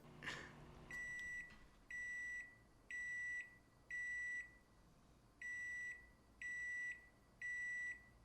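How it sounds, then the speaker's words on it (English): A microwave oven beeps repeatedly: a series of steady, evenly spaced electronic tones, fairly faint, with a quiet room around it. "can you turn the fucking microwave off?"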